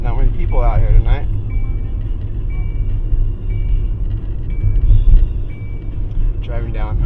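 A car driving down the main street of a small historic town in the evening, steady engine rumble and road noise close by, with a person talking over it.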